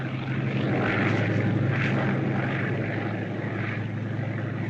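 Propeller-driven scouting plane flying overhead in a 1957 war film, a steady droning engine hum that swells slightly as it passes, heard alone without talking.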